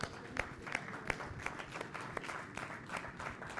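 A church congregation applauds together in steady rhythmic clapping, a fairly soft, roomy wash of hands with regular accented beats throughout.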